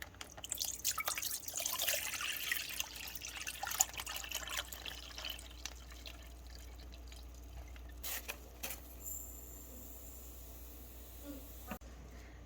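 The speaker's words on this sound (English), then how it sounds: "I'm going to be dumping the sap right into my bowl here" Raw maple sap poured into a bowl, a close trickling splash with scattered drips and small knocks that thins out into quieter dribbles toward the end.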